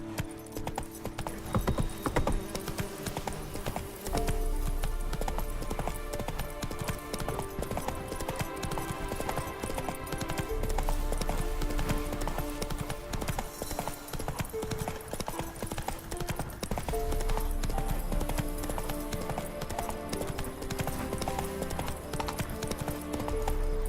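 A horse in The Witcher 3 gallops in a rapid, rhythmic clip-clop of hooves, steady and close, with brief pauses and resumptions and faint background music from the game.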